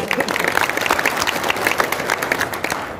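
Audience at a Diwali gathering applauding loudly and close by, a brisk, continuous patter of clapping with a crowd murmur underneath.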